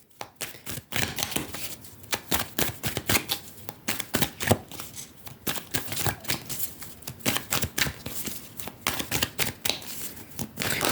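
A deck of tarot cards is shuffled up close in rapid, steady bursts of riffling and flicking, the crisp paper slaps repeating throughout with no speech over them.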